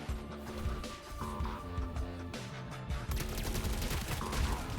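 Rapid bursts of gunfire in the shooter game FragPunk, sharp repeated shots clustered in quick volleys over a dense, busy game soundscape, loud and close with no speech.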